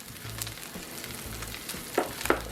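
Cajun blackened tomahawk pork chops fry in a pan with a steady close sizzle, broken by a few louder spits and crackles near the end, with no voices.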